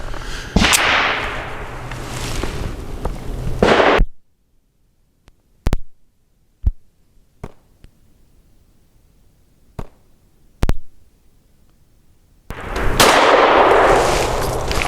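Shots from a Mossberg MC2sc pistol firing 100 grain zinc-projectile Z-Clean ammunition at an outdoor range, several sharp, loud cracks spaced irregularly between stretches of wind noise and near-silence.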